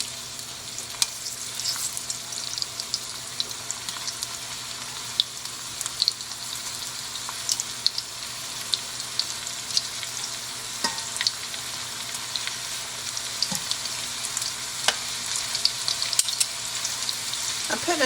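Beef stew meat browns in hot ghee with a steady, soft sizzle and crackle, with faint scattered pops and occasional clinks of stirring throughout.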